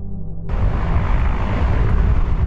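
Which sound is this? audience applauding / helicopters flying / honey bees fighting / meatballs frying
helicopters flying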